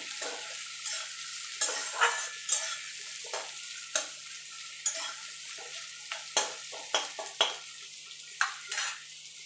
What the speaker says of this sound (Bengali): দেখুন বন্ধুরা পেঁয়াজটা আমার ভাজা ভাজা হয়ে গেছে।